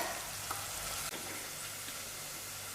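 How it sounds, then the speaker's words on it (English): Spicy salami (salamino piccante) frying in a pan for pasta e fagioli, a steady close sizzle with faint stirring clicks, no voices. "salamino piccante has been frying"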